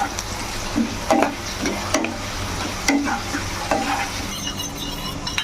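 A red chilli sauce mixture for chilli chicken is stirred with a spoon, producing close, rhythmic scraping and knocking strokes over a soft sizzle, with no one speaking.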